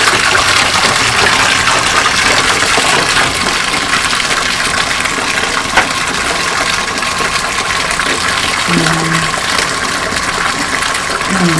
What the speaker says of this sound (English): I'm going to rinse out my bottle and make sure I get all the dishwashing liquid out of it.